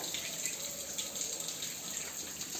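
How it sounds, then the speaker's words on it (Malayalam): Thin coconut milk poured into a pot of chicken kuruma, a soft, steady trickling stream of liquid, quiet and close, with no speech. "ഇനി ഈ ചിക്കൻ ഒന്ന് വേവാനായിട്ട് അതിലേക്ക് തേങ്ങയുടെ 2ാം പാലാണ് ഒഴിച്ചെടുക്കുന്നത്."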